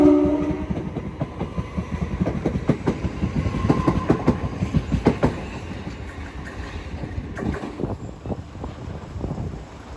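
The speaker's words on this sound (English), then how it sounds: "Now departing is the (12:30) Southern service to London Victoria from Reigate" A Southern Class 377 electric train departing East Croydon station, loud rhythmic wheel clatter and rumble close by that gradually fades as it pulls away.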